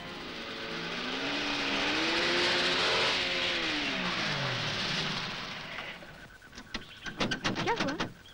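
A car engine revs loudly, its pitch swelling and wavering for several seconds before it falls away and stalls, followed by a few sharp clanks and sputters.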